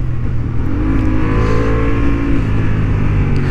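A Honda Hornet 750 motorcycle engine running on a racing track, a loud, continuous drone with shifting pitch as the throttle changes, no talking.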